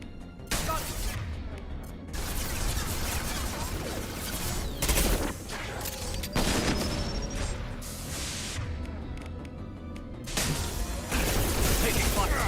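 Sustained gunfire in a Mass Effect 2 combat scene: dense bursts of automatic fire and impacts over twelve seconds, loud and continuous with only brief lulls, mixed with crashes and game effects.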